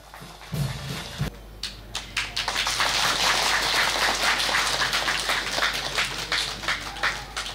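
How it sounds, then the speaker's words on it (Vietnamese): A church congregation applauding at a cornerstone-laying Mass, with scattered claps swelling into sustained, dense applause that carries on for several seconds before thinning slightly. "tràng pháo tay cảm ơn và chúc mừng Đức Tổng"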